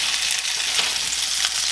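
Reuben meatball sliders sear in a hot skillet, giving a steady, close, loud sizzle and crackle of frying oil throughout, with no talking.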